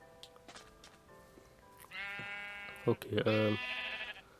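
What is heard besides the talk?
sheep bleating in Minecraft, video game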